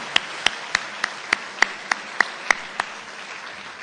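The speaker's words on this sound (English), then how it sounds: "So let's give them all a big round of applause for this meal." Clapping at an awards luncheon sounds as a few sharp, evenly spaced claps, about three per second, close and distinct rather than a full crowd's roar, before stopping.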